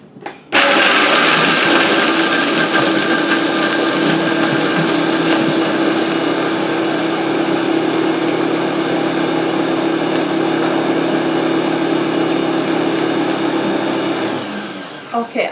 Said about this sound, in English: I am going to put some vanilla bean to go ahead and blend with that cashew